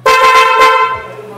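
An aftermarket PIAA horn on a car, wired to its own separate battery, blasts a loud, close, bright tone in a few quick pulses, then holds one sustained note that fades away.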